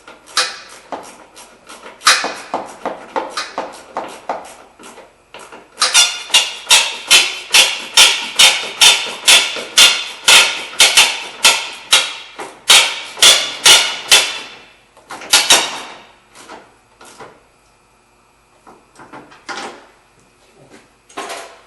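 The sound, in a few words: tightening 10mm bolts on a Mazda 3 headlight assembly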